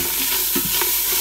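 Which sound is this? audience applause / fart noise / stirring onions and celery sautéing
stirring onions and celery sautéing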